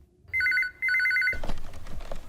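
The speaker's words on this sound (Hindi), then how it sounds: "फोन क्यों नहीं उठा रहा कोई?" A telephone rings with two loud electronic trilling bursts separated by a brief gap, then cuts off into rustling handling noise as the receiver is picked up.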